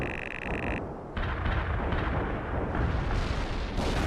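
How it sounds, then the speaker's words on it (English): Heavy artillery fire in the World In Conflict strategy game: a dense, continuous roar of blasts and rumbling explosions, loud and sustained, with an electronic tone at the start before the barrage swells. "Heavy artillery."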